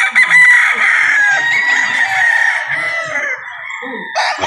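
A golden boy rooster at a game farm crows loudly and close, one long drawn-out call with a few soft clucks from other fowl around it.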